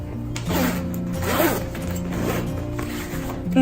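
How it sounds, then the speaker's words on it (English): A zipper on a Lululemon bag pulled along its track, a close, steady rasping zip lasting a few seconds with slight changes in speed. "So basically it zips like this."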